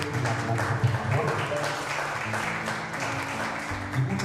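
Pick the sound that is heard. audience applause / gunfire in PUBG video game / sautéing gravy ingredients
audience applause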